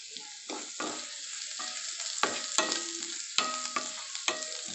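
Green chilies and onions stir-fry in a hot pan for Hakka noodles, with a constant sizzle and repeated scraping clinks of a spatula stirring at an uneven rhythm, close and alone.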